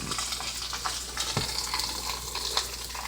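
Rice being stirred in a frying pan gives a steady low sizzle with soft scraping and a few sharper clinks from the utensil, close and fairly quiet, with no talking.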